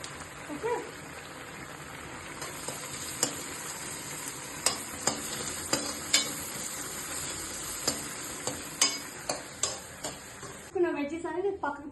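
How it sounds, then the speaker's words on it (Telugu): Vegetables stirred in a pan with oregano and salt, steady sizzling frying under repeated sharp scrapes and clinks of the spoon against the pan, ending with brief talk. "సాల్ట్ అండ్ మళ్ళీ బాగా మిక్స్ చేద్దాం"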